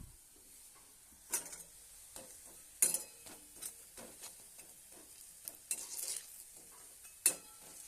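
Vegetables for a Bengali chochchori fry quietly in a pan beneath sharp, irregular clinks and scrapes of a spatula stirring them, each stroke rising briefly above the soft sizzle.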